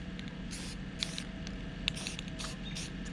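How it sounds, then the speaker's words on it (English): Black spray paint hisses from an aerosol can onto a homemade silhouette goose decoy outdoors in several short bursts, each a few tenths of a second long, close and fairly quiet. "Take your black spray paint. And then you just kind of give it a nice even coat."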